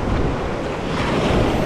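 Ocean waves and surf on a beach make a steady, loud wash of noise, mixed with wind buffeting the microphone, with no voices.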